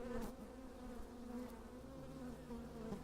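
Honey bees buzzing steadily at a hive on the grounds of the Swedish Embassy in Canberra, a continuous close drone of many insects with no talk.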